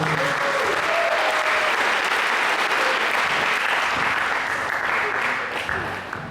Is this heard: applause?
yes